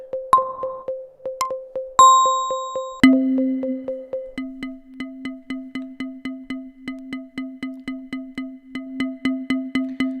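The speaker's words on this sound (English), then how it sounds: "Then we have bells, so we can sample it." Bell samples play in the POLY 2 generative polyrhythmic sequencer app on an iPad, struck alone as clean ringing tones that settle into a fast, regular repeating pattern of pitched bell hits.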